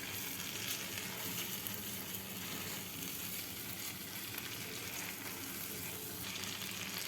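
Spice paste for a Bengali katla fish curry sizzles and fries steadily in oil in a pan, a dense continuous crackle close up with occasional stirring and no talking.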